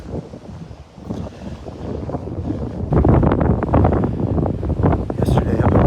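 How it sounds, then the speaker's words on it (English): Strong gusts on a beach at low tide roar and buffet close against the microphone, building from moderate rushes to a heavy, sustained blast in the second half. "Ooh, that wind is strong."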